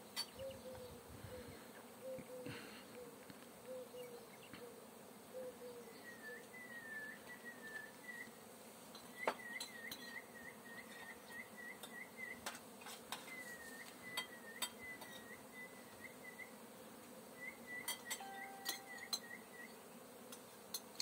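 Steady honey bee buzzing hums throughout at the hive, with thin whistling tones wavering above it and occasional clicks; no voices.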